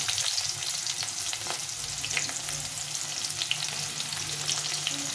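Large-diced chopped onions fry in oil for a bitter gourd fish curry, a steady close sizzle with faint crackles and occasional stirring scrapes, no voices.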